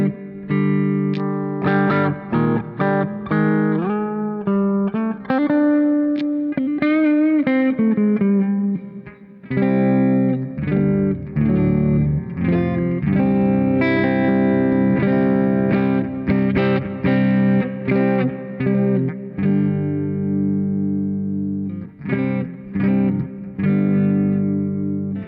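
An electric guitar plays chords and short riffs through a Marshall MG100 HDFX amp with its built-in reverb set about a quarter up, the notes ringing out with a light tail and brief pauses between phrases.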